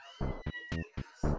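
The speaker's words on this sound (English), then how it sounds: "You got cats and dogs running in the background." A cat meows insistently, five or so short, strident calls in quick succession with brief gaps between them, sounding close and clear.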